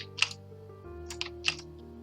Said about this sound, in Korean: 컨트롤 C 카피와 페이스트 컨트롤 V를 눌러서 하나 복사하고